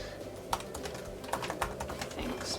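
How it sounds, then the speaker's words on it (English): Keys on a computer keyboard tap quickly and unevenly at close range, a soft steady patter with a few louder strokes and no talking. "just show myself typing it instead of actually saying it"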